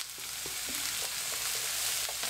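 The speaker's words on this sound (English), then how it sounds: "And fry it up in that juice" Meatloaf mixture with garlic and chilies frying in its own juices, a close, continuous sizzle with light crackle and a few soft stirring scrapes.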